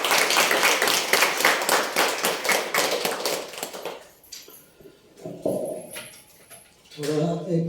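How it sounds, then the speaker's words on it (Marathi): An audience claps together at a spiritual talk, a dense burst of applause lasting about four seconds before it dies away and a few quieter sounds follow. "एकदा टाळ्या दे."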